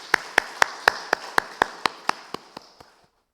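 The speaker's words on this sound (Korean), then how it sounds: "우리 박수로 축하합시다" Birthday applause from a church congregation during a Sunday worship service: about twelve sharp, evenly spaced claps in a steady rhythm, loud and close, tapering off at the end with no talking over them.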